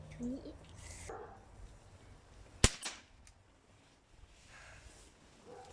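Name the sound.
Crosman 1377 pellet pistol firing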